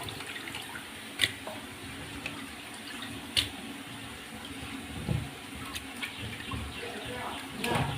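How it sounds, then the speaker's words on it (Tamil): Small fish being washed in water, heard as soft continuous sloshing and splashing close by, with a few sharper clinks and drips scattered through it and no talking. "மீன் நல்லா வாஷ் பண்ணியாச்சு"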